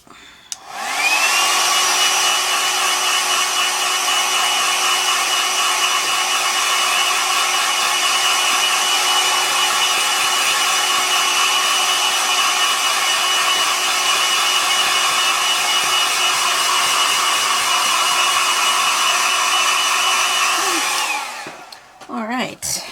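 A hair dryer blows steadily on fresh artwork for about twenty seconds, a loud continuous whooshing whine that starts and stops abruptly, with no talking over it.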